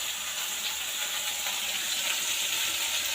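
Oil sizzles steadily in a pan as a mix of mustard seeds, dried red chillies and chopped onion fries, a dense continuous hiss with no talking.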